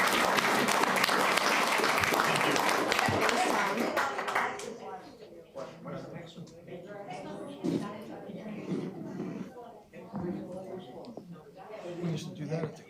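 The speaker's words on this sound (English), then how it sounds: "How about another round of applause?" Audience applause at a city council meeting, loud and sustained for about four seconds before thinning into scattered claps and murmuring voices in the chamber.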